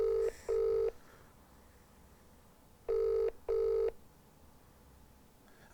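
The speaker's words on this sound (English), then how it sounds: "I'm calling mobile numbers, by the way, or cellular phones for our American friends." Mobile phone keypad tones as a number is dialed: four short steady beeps, two quick ones together, a pause, then two more, clear and close against a quiet background with no talking.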